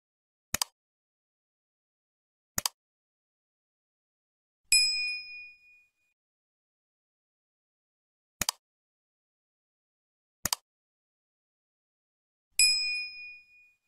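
A notification bell effect repeats: sharp metallic ticks alternate with brighter ringing dings in a steady pattern, six hits in all, clean with no voices.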